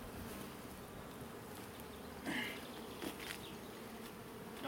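Honeybees buzzing around beehives during a hive inspection, a steady faint droning hum with a few individual bees flying close by.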